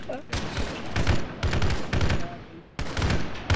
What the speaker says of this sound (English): That's a big machine gun.